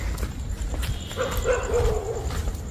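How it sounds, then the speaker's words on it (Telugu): Dogs bark and howl at midnight near a graveyard, a distant drawn-out wail rising over a steady low background, faint and far off. "కుక్కలు అయితే మస్తు కొడుతున్నాయి, ఫుల్ భయం అవుతుంది."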